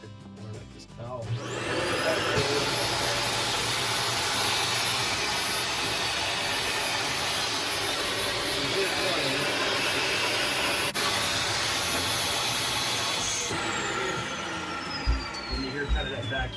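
A faulty Dyson Ball DC40 Animal vacuum cleaner starts up and runs with a loud, steady high-pitched whine and roaring airflow for several seconds, then a pitch shift as it winds down, close by.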